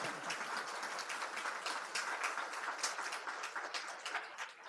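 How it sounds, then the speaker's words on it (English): Crowd applause at an awards ceremony honoring student leaders, a sustained even patter of many hands clapping in a large room, moderately distant and without speech over it. "If we could give them a round of applause"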